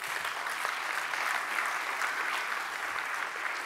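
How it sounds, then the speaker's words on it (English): Audience applause after a team is announced on stage at a hospitality event, a steady dense clapping that fills the whole stretch at even loudness with no talk over it. "An applause."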